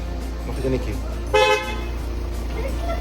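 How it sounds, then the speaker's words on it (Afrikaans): A car horn sounds with one short toot midway through, while driving on a family road trip along South Africa's Garden Route, with engine rumble beneath and someone talking briefly. "Hulle like as ek die hoeter druk nie"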